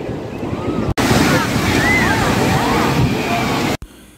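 Sea waves on Puri beach at midday, a loud rushing wash of surf with wind buffeting the microphone, cut briefly near the start and end.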